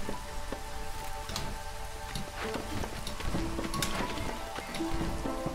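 Steady rain during the drizzle season in the video game Against the Storm patters continuously, with scattered droplet ticks over a soft, even wash and no voices.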